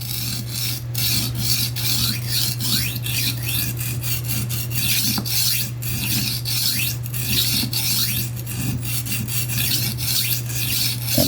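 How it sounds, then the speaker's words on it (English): A kitchen knife is sharpened on a wet whetstone with rhythmic, gritty scraping strokes repeating close up over a constant low hum. "So I take and get the stone wet."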